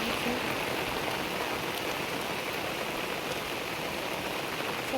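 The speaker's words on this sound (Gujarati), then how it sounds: "અહીંયા વરસાદ બહુ ચાલુ છે" Steady rain falls across open farm fields in a dense, even hiss that keeps an unchanging level from start to finish, with no voices.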